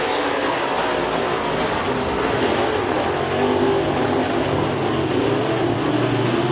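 Race cars on the track at McKean County Raceway, a dirt oval, during a 2024 heat race: a continuous loud engine roar that swells and fades slightly as the cars go through the turns onto the front straightaway, with no talk.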